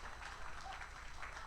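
A live audience keeps up steady, soft applause at some distance, a continuous patter of claps with no breaks.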